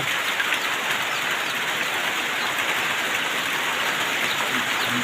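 Heavy rain pours steadily, a dense constant hiss of drops striking surfaces all around, with no voices.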